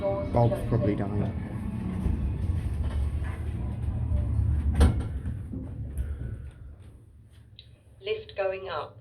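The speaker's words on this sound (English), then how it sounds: "Doors closing. Lift going down." Lift doors closing in a Sutton Town Centre lift, Greater London, a rumbling mechanical slide with a clunk near the middle, followed by an electronic chime or announcement near the end.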